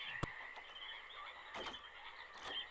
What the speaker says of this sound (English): I think there are actual frogs.